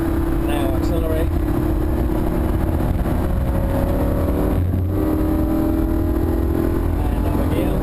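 A Lamborghini Huracan accelerating hard on the Thruxton racetrack, heard from inside the car as a loud, steady engine roar with a rising tone, and a voice talking over it.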